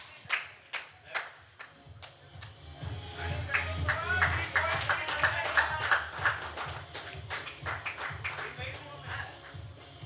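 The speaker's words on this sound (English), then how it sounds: "A standing applause from the Mahalakshmi Mavericks team to the Pawan Srinu as" A cricket team gives a departing batsman a standing ovation at a weekend tournament match: a few sharp claps, then a sustained, dense patter of applause with voices mixed in.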